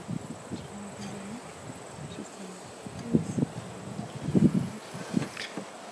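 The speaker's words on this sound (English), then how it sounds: "Oh, look, there's lots of bees there right away" Soft, steady buzzing of honeybees at a top-bar hive, with a few louder passes of bees flying close by, over faint rustling outdoors.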